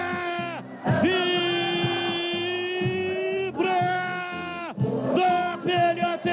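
A football crowd cheering and chanting loudly after a goal in a derby, sustained, massed voices in long rising waves that break off and resume several times.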